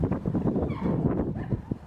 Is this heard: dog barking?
yes